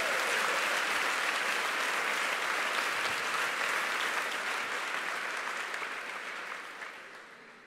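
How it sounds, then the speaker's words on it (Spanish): A church congregation applauds during a sermon, broad sustained clapping that starts full and gradually fades toward the end. "¿Cuánto le da un aplauso"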